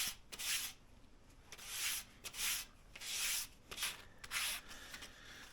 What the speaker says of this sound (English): I have sanded like this back and forth before, and I'm just seeing if there's a difference in doing it